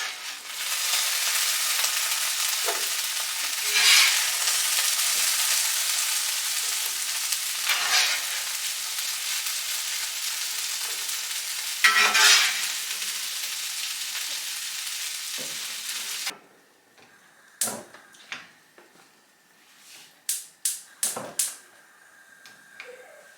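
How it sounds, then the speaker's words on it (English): Rabbit pieces sizzle and fry steadily in oil in a hot pan, a dense continuous crackle for most of the stretch, then it drops away to quiet with a few sharp clanks and scrapes of the pan. "I'm going to get the vegetables out of here and start browning this rabbit off"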